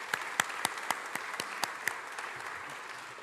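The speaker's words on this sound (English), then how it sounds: "Big round of applause for you all." Sparse, fairly faint applause from an audience at the Kingston Business Awards 2022, with a handful of distinct claps standing out over a soft wash of clapping that thins out toward the end.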